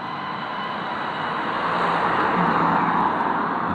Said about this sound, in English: that car doesn't sound healthy